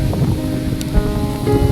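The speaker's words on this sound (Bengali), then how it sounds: "এই যে সমুদ্রের জল, কি দারুণ ঢেউ, জোয়ার আসছে আর তার সাথে কত ঢেউ।" Sea waves roll in with the rising tide at Dublagari beach in Odisha, a steady close surf wash mixed with gusty wind buffeting the microphone, with no voices.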